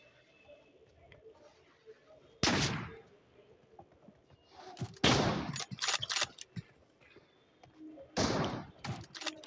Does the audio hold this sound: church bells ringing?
no